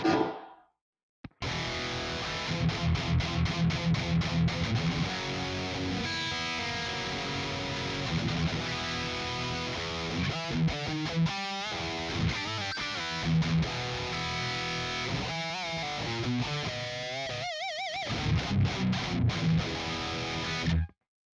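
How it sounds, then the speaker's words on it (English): Heavily distorted electric guitar through a Dietzel Herbert Mark III amp chugs through tight rhythmic riffs, loud and aggressive, with brief stops and palm-muted bursts, no voices. "my main high gain rhythm tone is a Dietzel Herbert Mark III"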